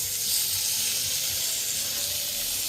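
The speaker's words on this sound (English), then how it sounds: "And if we flip it the other way around and sear" Meat searing in a hot pan during a home cooking session, a steady broad hiss and sizzle running throughout at close range, with no voices over it.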